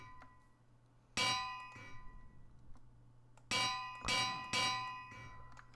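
Minecraft anvil sound effects ring out as metallic clangs, one strike early, then three more in quick succession later, bright and resonant over a quiet background.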